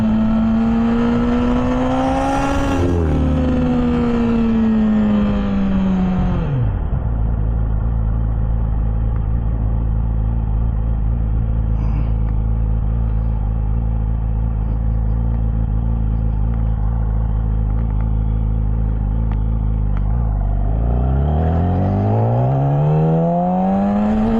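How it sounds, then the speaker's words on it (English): Close and loud, a Yamaha R6 sport bike engine revs up to a high whine, drops into a deep steady rumbling idle for a long stretch, then climbs again in a rising rev. "Letting it rev out a little bit, like hearing it."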